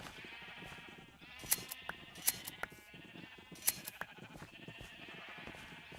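Sheep in Minecraft bleat repeatedly, several short wavering baas at irregular intervals, close and fairly loud, alone with no talk.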